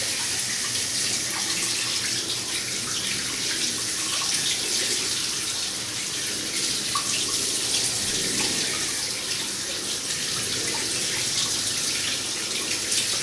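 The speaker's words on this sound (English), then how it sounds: "Now you'll notice I gave my face a really good douse there." Cold water runs and splashes at a bathroom sink as a face is doused after shaving, a steady hissing stream with soft watery slaps throughout, close and alone.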